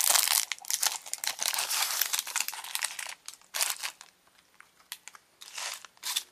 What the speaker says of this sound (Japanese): 開封しまーす。